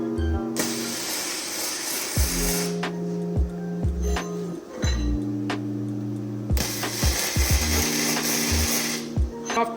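Cheap $89 welder laying tack welds, with bursts of crackling, hissing arc noise separated by quieter gaps and clicks, a couple of distinct tack bursts close by.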